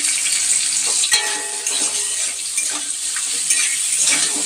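Potatoes frying in a pan with peas to follow make a loud, continuous close sizzle with bubbling crackle and a few stirring scrapes, no talk.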